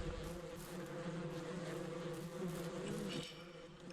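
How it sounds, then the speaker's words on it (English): Bees buzzing around a hive in the ranch simulator game Ranch Simulator, a dense continuous droning hum that stays steady and fairly close, swelling slightly near the end. "Now I'll show you the process of getting the bees off the hive"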